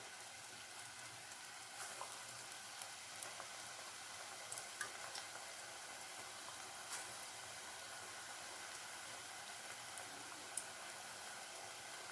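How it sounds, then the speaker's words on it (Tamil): A test drop of gram-flour bonda batter fries in hot oil, giving a steady, fine sizzle and hiss for the whole stretch, with scattered faint pops and no voices. "எண்ணெய் வந்து சூடாயிடுச்சானே செக் பண்ணுறதுக்கு கொஞ்சம் எடுத்து போட்டால் நல்லா சூடாயிடுச்சு"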